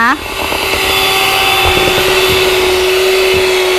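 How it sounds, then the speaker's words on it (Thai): A kitchen blender whirs steadily while oil is drizzled in to emulsify an old-style sandwich salad dressing. The motor hum is loud and constant, with someone speaking Thai over it. "ค่อยหยอดค่อยปั่นไปแบบนี้เรื่อยๆจนกว่าน้ำมันจะหมดนะคะ"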